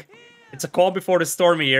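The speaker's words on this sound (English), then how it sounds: "you can hear a cat meowing in the background" A cat meows repeatedly in the background, its drawn-out cries overlapping someone talking in the foreground.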